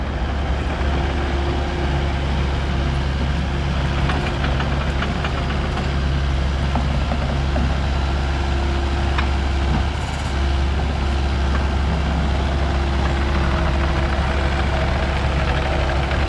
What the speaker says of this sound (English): Aaron showed up now and just unloading his little excavator